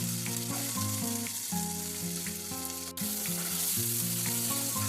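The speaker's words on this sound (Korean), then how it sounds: "편 썬 마늘을 넣고 볶아주세요" Sliced garlic frying in oil over medium-low heat, giving a constant close hiss and crackle that holds even throughout, with faint stirring touches and no voices.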